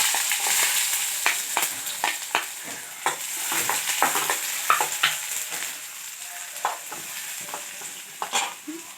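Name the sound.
onion sautéing in a pan on low flame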